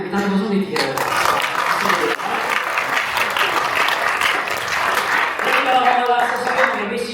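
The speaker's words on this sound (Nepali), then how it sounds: "अनि हामी ताली बजाउने थियौँ" Guests at an engagement ceremony break into loud, sustained clapping that fills the room, steady and dense throughout with some voices mixed in underneath.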